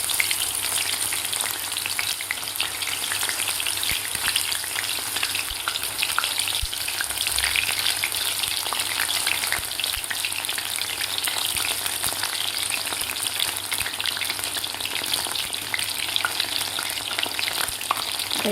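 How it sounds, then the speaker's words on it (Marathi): Soybeans deep frying in hot oil give off a loud, steady, close sizzle. It crackles on without a break for the whole stretch, with no voices. "हे कुरकुरीत होईपर्यंत आपल्याला हे सोयाबीन तळायचे आहे."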